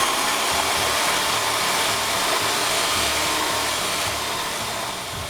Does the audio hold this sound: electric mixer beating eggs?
yes